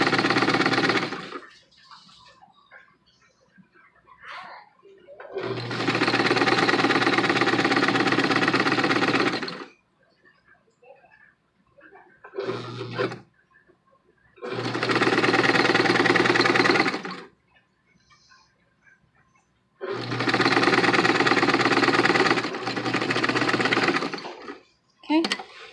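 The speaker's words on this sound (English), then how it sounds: "If you are going to use a sewing machine, make sure you use a wide stitch" A sewing machine stitches fabric for a nurse headband ear warmer, running in three or four loud bursts of several seconds each, separated by quieter gaps with small handling noises.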